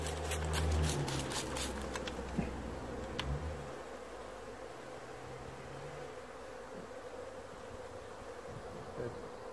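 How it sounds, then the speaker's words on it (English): Honey bees buzz in an open hive during beekeeping in Newfoundland, a continuous soft hum of many insects close by, with a few louder droning passes and light clicks and handling noises early on. "So right now the bees are pretty chilled."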